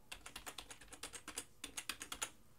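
A computer keyboard being typed on while a password is entered: a quick run of crisp, close key clicks in an uneven rhythm, pausing briefly partway through before a second flurry of taps.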